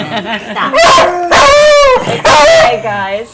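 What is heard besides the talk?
beagle howling and barking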